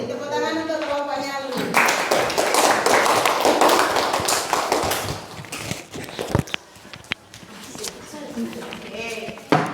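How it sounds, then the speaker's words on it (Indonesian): A classroom of students clapping for a student group, a burst of close applause that swells then thins into scattered claps, with voices before and during it. "Beri tepuk tangan untuk kelompoknya."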